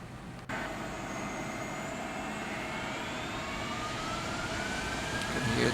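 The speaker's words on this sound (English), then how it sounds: "You can hear the outmost left engine just spooling up." Boeing 747-400 in X-Plane 12, the outermost left engine spooling up during start after pushback, a loud steady jet roar with a rising whine that climbs slowly in pitch and grows slightly louder throughout.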